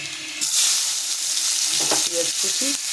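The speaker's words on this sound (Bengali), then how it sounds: "এবার দেবো পেঁয়াজ কুচি" Chopped onion hitting hot oil with black cumin in a kadai, setting off a sudden loud, close sizzle that keeps hissing steadily while a spoon knocks and stirs near the end.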